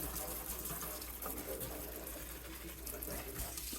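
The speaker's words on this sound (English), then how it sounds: "Rinsing the leaves off." Tap water runs and splashes as indoor houseplant leaves are rinsed off, a faint, steady indoor gush with soft irregular spatters and no clear voice over it.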